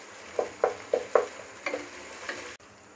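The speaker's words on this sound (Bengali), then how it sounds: "এখন মশলাগুলোকে ভেজে নিব।" Ginger and garlic paste with spices frying for a beef curry, with a low sizzle under several short, distinct clinks and scrapes of stirring in the pan, and no talking.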